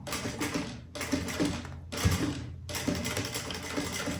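A sewing machine stitches and backstitches a fabric kit of small zippered pouches, running in three steady whirring bursts with brief pauses between them, close and fairly quiet, with no talk.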